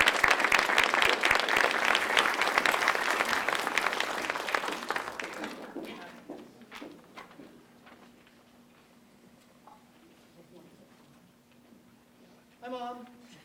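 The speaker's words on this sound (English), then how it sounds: "So please join me in applauding them." An audience at a school English awards night applauds loudly for several seconds, then the clapping thins out to a few scattered claps before fading, with a voice briefly at the end.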